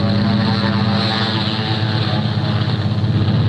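Propeller aircraft engines roar loudly and continuously, a thick, steady droning rumble that fills the whole clip without a break.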